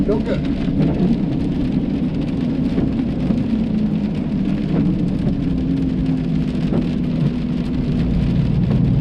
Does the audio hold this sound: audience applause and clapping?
no